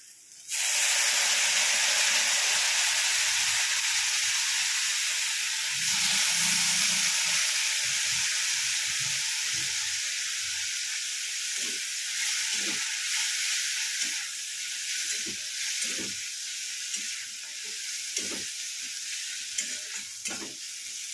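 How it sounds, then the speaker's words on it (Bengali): Mustard and green chili paste loosened with water hits a hot pan with a loud, steady hiss that eases slightly over time, broken by occasional stirring scrapes and knocks. "এইবার এতেই সর্ষে বাটাটা দিয়ে দেবো, সর্ষে আর কাঁচা লঙ্কা বাটা দিয়ে হাত ধোয়া জলটা দেবো।"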